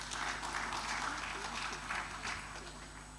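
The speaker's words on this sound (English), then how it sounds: "Please, another resounding round of applause for him." An audience at an agriculture summit applauds, a steady moderate clatter of clapping hands that sounds somewhat distant and fades slightly toward the end.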